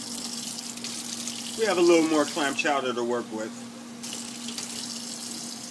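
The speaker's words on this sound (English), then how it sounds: "We're about to rinse them off and cut them in half" Clams are rinsed under running tap water in a kitchen, a steady close hiss of flowing water that continues beneath a man's speech.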